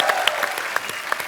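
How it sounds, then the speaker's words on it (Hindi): Studio audience applause on The Kapil Sharma Show for the Force 2 team, a brief burst of clapping with a few sharp individual claps standing out. "एक बार फोर्स 2 की सारी टीम के लिए जोरदार तालियां"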